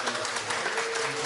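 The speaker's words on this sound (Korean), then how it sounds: "우리 박수를 한번 하죠." A church congregation claps together in steady, dense applause during a Christmas Day Sunday afternoon service, the patter continuous and fairly close throughout.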